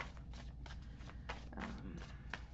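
Soft papery tarot card shuffling, quiet slides and flicks under a steady low hum, faint and close.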